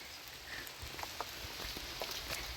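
Steady rain falls, a dense hiss with scattered irregular drops pattering on surfaces, continuous and moderately loud with no voices.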